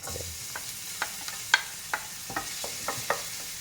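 Garlic sizzling in oil in a pan for pancit, a soft steady frying hiss broken by about a dozen light clicks and taps of a stirring utensil, close and alone without speech.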